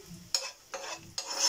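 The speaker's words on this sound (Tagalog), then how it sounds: "Ito, ating bawang na piniprito." Garlic frying in butter for a fried fish dish, heard as three short bursts of bright sizzling spaced evenly apart, each rising as the pan is stirred, close and fairly quiet.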